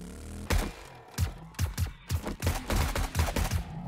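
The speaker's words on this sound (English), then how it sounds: "Come on, shoot this dude" Repeated gunshots ring out while zombies are fought during a horde night in the survival game 7 Days to Die, modded with the Rebirth mod, a steady run of loud, close, punchy shots about every quarter second.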